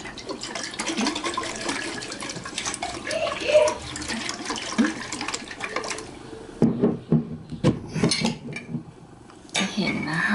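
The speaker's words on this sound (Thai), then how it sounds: "วันนี้เราจะเขย่าแรงเลยนะคะ พอเขาเริ่มมีฟอง เราจะเริ่มเขย่าแรงเพิ่อปิดฝานะคะ ให้แน่นแล้ว" A closed jar of yogurt yeast water is shaken hard, the liquid sloshing and rattling in uneven bursts that turn choppier toward the end, with a voice speaking partway through.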